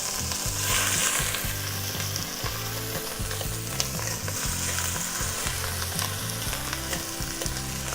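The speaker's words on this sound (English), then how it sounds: "start throwing the chicken in bit by bit, and we'll let that brown" Chicken browns in smoking-hot olive oil in a Dutch oven, giving a loud, dense, continuous sizzle and crackle close up, with no voices over it.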